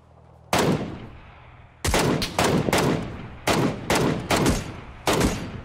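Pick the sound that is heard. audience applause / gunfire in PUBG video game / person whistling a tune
gunfire in PUBG video game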